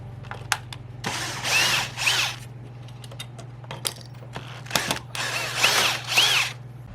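Screws are driven out of an electric bike with a power driver, giving several short whirring bursts between quieter pauses, a low steady hum running underneath.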